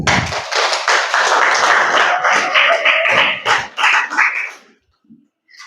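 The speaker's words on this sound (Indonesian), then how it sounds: "Tepuk tangan." Dense, steady applause from students at a school digital-literacy seminar, filling the room for about four seconds before quickly dying away into quiet.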